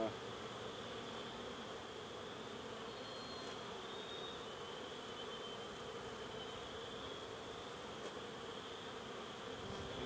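Honey bees buzz steadily around an open hive during a spring inspection while a super is added, a dense continuous drone close by that holds level throughout with no talk over it.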